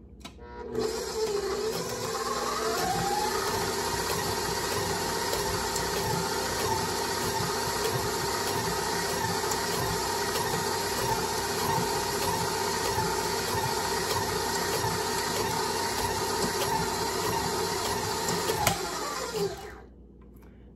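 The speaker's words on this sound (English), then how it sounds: "And next we're going to add ½ a cup of pure pumpkin puree. And beat that in." An electric hand mixer runs steadily for about eighteen seconds, beating pumpkin puree into snickerdoodle bread batter with a loud, constant motor whine and a rattling churn, starting and stopping cleanly.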